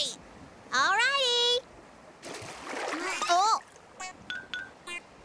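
A cartoon fish splashes back into the water in a Pororo kids' animation, a short splash heard amid bright sliding cartoon tones and child-like voices.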